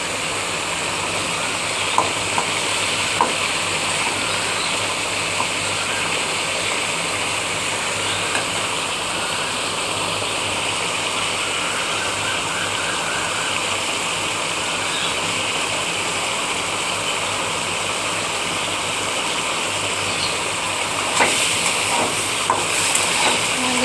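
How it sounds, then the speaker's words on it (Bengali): A constant loud sizzling hiss fills the whole stretch as prawns fry in a pan, with a few faint scraping stirs. "ভালো করে একটু ভেজে নেব যতক্ষণ না ভাজা"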